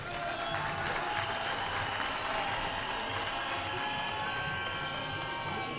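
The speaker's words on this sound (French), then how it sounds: "Je voudrais que tout le monde applaudisse pour cela." Steady, dense applause from a large audience at a mayor's speech during a solar power plant inauguration, continuous and fairly loud throughout with a crowd wash and no clear talk over it.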